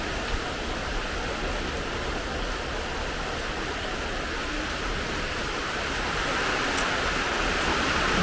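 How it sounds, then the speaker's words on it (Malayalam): Heavy monsoon rain pours steadily outdoors, a dense unbroken hiss that holds constant and swells slightly toward the end, with no voices heard. "എന്താ മഴയാ."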